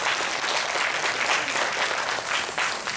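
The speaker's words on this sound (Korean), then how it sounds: "우리 청소년분들 박수 한번 쳐주세요" A church congregation claps together in steady, dense applause that fills the whole stretch at an even loudness, with no pauses.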